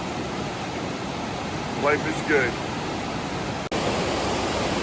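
A muddy river flows steadily in rainy Ketchikan, Alaska, a broad, even rush of water close by, with a short spoken remark partway through.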